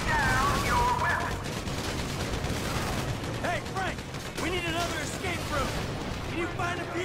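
Gunfire in the video game GTA 5 rattles in dense, continuous bursts under shouting voices and game noise.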